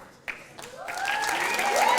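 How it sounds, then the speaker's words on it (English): An audience at a televised apprentice-style competition cheers and applauds, building from scattered claps into loud sustained whoops and whistles. "So just cheer if you think this was your favorite"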